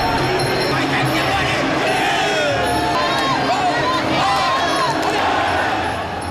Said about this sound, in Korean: 선수들의 화끈한 경기에 관객들은 뜨거운 환호로 답한다